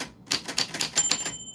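A typewriter types in a quick burst of about eight crisp key strikes, close and fairly quiet, with a faint metallic ring at the end and no voices.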